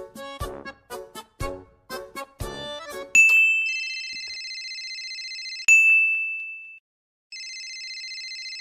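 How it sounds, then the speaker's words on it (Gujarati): A phone rings indoors after a short burst of tinkling tones, with long sustained electronic ringing notes that stop briefly and then start again, clear and close with no talk. "હા ફોન આવ્યો"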